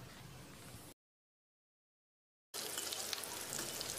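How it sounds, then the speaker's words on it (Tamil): Capsicum sautéing in ghee in a pan gives a steady close sizzle that breaks off into silence for about a second and a half, then returns louder. "1 குடமிளகாய், இதை ஒரு 2 நிமிஷம் நல்லா வதக்கிடலாம்."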